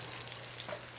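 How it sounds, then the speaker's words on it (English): Steak sizzles in a pan with a steady, close crackling hiss that holds throughout, quiet overall with a faint low hum beneath and no talking. "The sizzle is everything."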